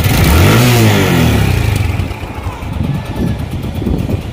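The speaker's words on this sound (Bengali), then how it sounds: "একদম পিক আপ ঠেকে দিলাম, তারপরেও ইঞ্জিনের সাউন্ড নাই, এতটা স্মুথ সাউন্ড" A TVS Stryker 125cc motorcycle engine revs hard at full throttle close by, rising sharply and then easing into a steadier, smoother run with a voice talking over it.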